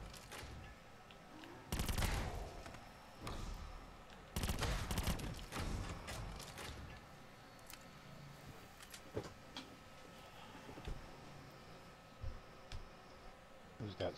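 Gunfire bursts and sharp shots in a Call of Duty zombies match, the Tag der Toten map, come in clusters around two and five seconds, then scattered single shots, with players talking under the action.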